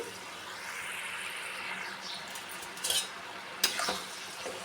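Indian gooseberries (amla) fry in oil in a pan for pickle, a soft steady sizzle with occasional louder scrapes and clinks of stirring.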